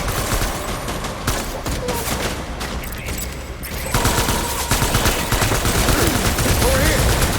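Sustained gunfire in the video game Death Stranding: dense bursts of automatic shots crackle continuously, growing heavier partway through, with a few voices calling out in the mix.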